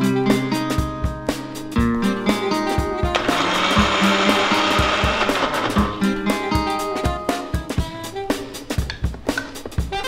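A kitchen mixer grinder whirs as it grinds coconut and turmeric, a loud, continuous grinding burst in the middle framed by clattering, jerky pulses of the motor starting and stopping.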